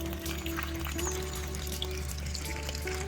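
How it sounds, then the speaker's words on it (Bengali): Water trickling and spilling from a cemented outdoor fish tank after rain, a steady close wash of splashing with no pauses throughout. "এটা তো অবর পানি পড়ে যাচ্ছে"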